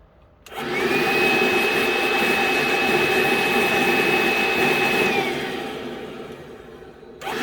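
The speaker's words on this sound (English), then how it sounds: "I'm just going to hoover that out and clean it." A vacuum cleaner runs steadily and loud for several seconds, a thin whine over a broad roar, sucking fluff and dirt from the bogie of a Hornby InterCity 125 drive car model train, then spins down near the end.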